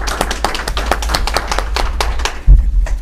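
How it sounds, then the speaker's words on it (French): Brisk clapping from the audience at a candidates' debate, many hands striking in a quick irregular patter with a loud thump near the end. "je demande au public spécialement de lui porter une acclamation"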